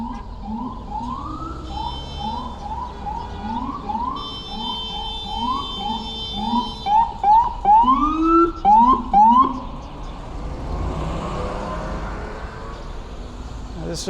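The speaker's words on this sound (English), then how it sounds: "Sounds like a cop car's coming towards me." A police car siren wails on a busy Brooklyn street on Coney Island Avenue, cycling up and down as it draws closer and grows louder, with quick yelping bursts before it fades into traffic noise.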